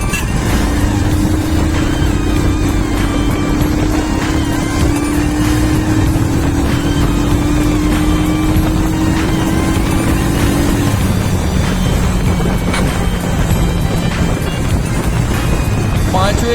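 A Royal Enfield Himalayan motorcycle in fifth gear drones steadily on an open road, its engine note slowly climbing under constant heavy wind rush.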